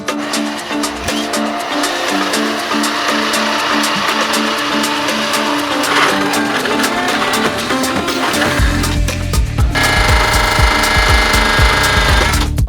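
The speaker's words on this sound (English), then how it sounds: "we did finally get the hole drilled in the floor" Power drill boring a hole through the floor of a camper van under construction, a loud, continuous harsh grinding and rattling that runs throughout, turning heavier and lower in the last few seconds as the bit bites deeper.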